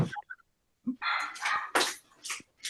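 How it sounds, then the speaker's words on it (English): A dog gives a few sharp, close yips and barks among other sounds in a room, in short bursts separated by brief gaps. "Is that dog really barking?"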